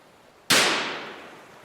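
A single gunshot goes off in a horror radio drama, fired by a startled man at a corpse. It is one sharp, loud crack with a hissing tail that fades over about a second, with no voices.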